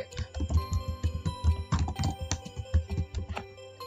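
Quick, uneven keystrokes clatter on a computer keyboard at close range while text is entered into a Microsoft Excel cell, a steady run of light taps with a few heavier key presses and no voices.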